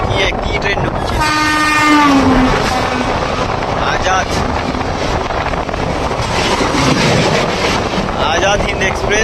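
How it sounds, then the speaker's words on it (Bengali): The Azad Hind Express rolls into Bagnan station, its horn sounding early with a long rising tone, followed by the steady rumble and clatter of wagons, heard from aboard a local train with people talking nearby. "আজাদ হিন্দ এক্সপ্রেস ঢুকলো এখন।"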